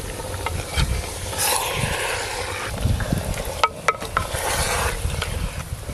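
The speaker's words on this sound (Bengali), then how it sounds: "সব কিছু একসঙ্গে ভালো করে মিশিয়ে নেব একটু।" A pot of frying spices and whole garlic is stirred steadily, with continuous sizzling and scraping plus a few sharp metallic clinks of the utensil against the pot, cooked over a clay stove.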